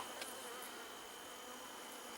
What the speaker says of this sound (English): there's a good number of bees here and a lot of honey.